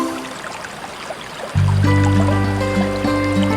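Clear river flowing over stones along a forest trail to a waterfall, a steady broadband rush that jumps louder and closer halfway through, continuous and alone with no talk.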